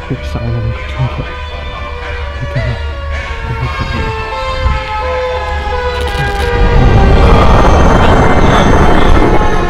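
Siren Head creature's wailing siren call in a horror video game, a loud droning tone that builds and swells in the second half beneath a person talking.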